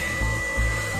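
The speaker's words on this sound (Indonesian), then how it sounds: "suara kipasnya mengganggu sekali." Small cooling fan on a homemade inverter powered by salvaged laptop batteries, whirring steadily and close up as a loud broadband hiss with a low pulsing hum underneath, no voices.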